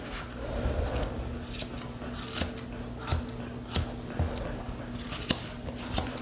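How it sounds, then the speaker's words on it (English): Grooming scissors trim a Cocker Spaniel's coat being prepared for show, giving a run of crisp, quiet snips spaced irregularly about half a second to a second apart against a faint steady background hum. "I need these scissors."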